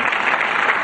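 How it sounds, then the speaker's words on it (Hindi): Loud, dense applause from a cheering audience at an event honouring MS Dhoni, a steady unbroken wash of clapping with no talk. "नाउ धोनी के लिए जोरदार तालियां."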